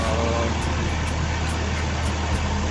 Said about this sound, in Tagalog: umaandar na ang aking makina after nating magpalit ng o-ring ng ating uh, distributor